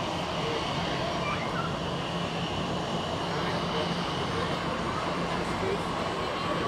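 An airliner taxiing at Zurich Airport: a steady, broad engine roar and whine holds at an even level throughout, with some background voices mixed in.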